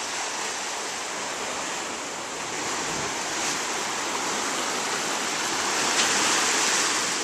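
Steady broadband ocean surf rolling below a villa at the Rockhouse Hotel in the morning, a continuous even wash of waves with no talk over it.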